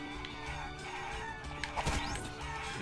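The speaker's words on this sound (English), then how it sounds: "A large chicken lives in the house nearby." A large chicken crows in the Guacamelee video game, with a loud crowing call near the middle set against busy, continuous game music and effects.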